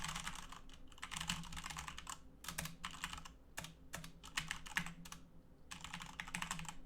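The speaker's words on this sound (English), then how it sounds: "type some Polish for you." Rapid typing on a computer keyboard, dense bursts of clicky keystrokes broken by short pauses, close and fairly loud with a faint low hum underneath and no speech.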